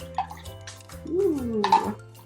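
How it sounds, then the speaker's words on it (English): Water poured by a child into a bowl for a pepper and soap science experiment, giving soft splashing and dripping over about two seconds, with a voice talking quietly underneath. "go ahead and have your child pour the water on in"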